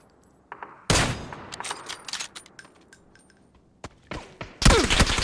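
Gunfire in a shooter video game: loud, sharp shots and rapid bursts in uneven clusters, with a heavy volley near the start and another at the end.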